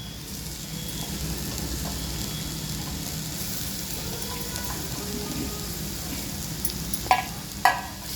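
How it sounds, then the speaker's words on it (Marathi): Bamboo shoot vegetable stir-frying in a pan gives a steady, close sizzle throughout, with two sharp clinks of a utensil near the end. "चांगले परतून येऊ त्याच्यामध्ये ही बांबूची भाजी टाकू"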